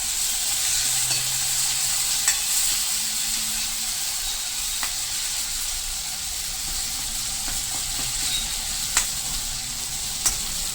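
Potatoes cooking in a pan over a low gas flame for a gravy pasta: a soft, steady sizzle and hiss with a few sharp little pops and spatula scrapes, no voices.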